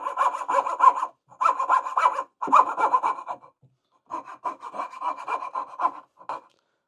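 Rhythmic rasping strokes of a Katz-Moses KM-19 coping saw cutting out the waste of a wooden dovetail, close and steady in bursts separated by short pauses, with no talk.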